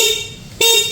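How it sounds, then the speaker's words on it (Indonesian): A Honda motorcycle horn, newly fitted during an LED modification, sounds two loud, close, steady honks, a brief one and then a longer one, with no talk. "Coba ya kita coba klaksonnya nih sekarang."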